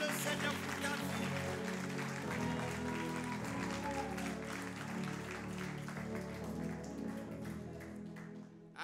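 A church congregation at a Pentecost seminar applauds and cheers, dense clapping washing over the room under sustained music and a few raised voices.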